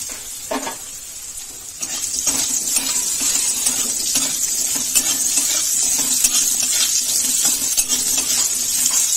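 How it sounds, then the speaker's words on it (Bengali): Potatoes frying in a pan for a vegetarian aloo posto dish sizzle steadily and close, with repeated metallic scrapes and clinks of a spatula stirring against the pan throughout. "কষতে কষতেই ভাজা হয়ে যাবে আলুগুলো।"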